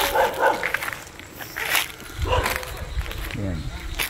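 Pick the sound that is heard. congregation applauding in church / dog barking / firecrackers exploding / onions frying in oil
dog barking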